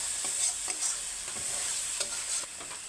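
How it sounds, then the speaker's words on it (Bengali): Potatoes being stirred with spices in a frying pan for a chicken dish, a spatula scraping in short repeated strokes over a steady soft sizzle, close and fairly quiet with no voices. "আলুগুলোকে ভালো করে নেড়ে চেড়ে মশলা লাগিয়ে নেব"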